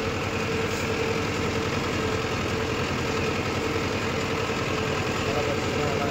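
A Mahindra Arjun Novo 605 DI tractor working a rotavator in farmland, its diesel engine running steadily with a dense, even low-frequency throb and vibration, close and loud throughout.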